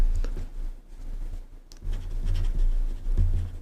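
A pen writing by hand on paper, giving soft, close scratching strokes in short bursts with brief pauses between them, over a low steady background hum.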